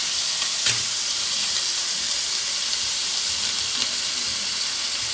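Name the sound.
ginger garlic paste frying in pan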